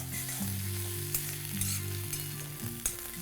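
Ginger and green chilies sizzle in frying onions, a dense close crackle with a few soft stirring knocks, while a steady tonal hum runs underneath.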